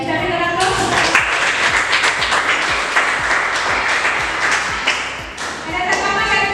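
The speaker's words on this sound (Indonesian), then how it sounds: "kita berikan aplaus" A class gives applause after a group presentation, with steady, dense clapping from many hands filling the room, close and fairly loud throughout.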